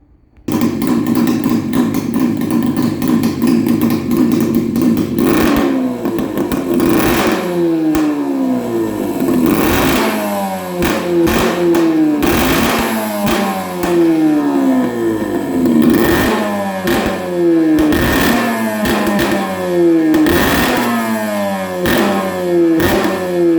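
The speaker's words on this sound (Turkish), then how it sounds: "Motor da iyi oldu. Bir de ses dinleyelim bakalım nasıl olmuş." A freshly repaired engine idles with a rough, lumpy beat, then gets revved repeatedly, each loud rise in pitch falling back down, one sweep after another, close by with mechanical clatter and no voices.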